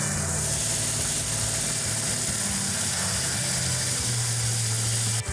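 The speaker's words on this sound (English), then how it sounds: "That's a good idle right there for right now. It's a little high, but that's okay." A 1968 Dodge Charger R/T engine idles a little high after cam break-in, a steady low mechanical rumble with a faint ticking rattle, heard close and continuous without talk.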